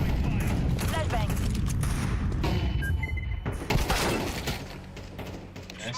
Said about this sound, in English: Grenade out. Throwing a grenade. Incendiary out. Throwing fire. Flashbang.